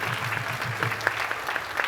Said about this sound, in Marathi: त्याला एका जोरदार टाळ्या झाल्या पाहिजे